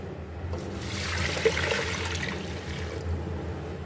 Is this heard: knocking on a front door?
no